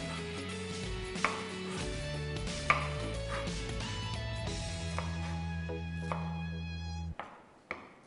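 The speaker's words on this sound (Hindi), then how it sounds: "बारीक बारीक इसको हमने चॉप करना इस तरह से" A knife finely chopping capsicum (bell pepper) on a board, quick repeated taps with a steady background hum, close and fairly loud, no talk.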